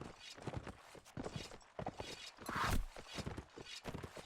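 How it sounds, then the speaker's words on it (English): A horse's hooves clip-clop in a multiplayer video game match: a fairly faint, rhythmic patter of hoofbeats mixed with other game sounds. "Black Tide on the horse with a crossbow"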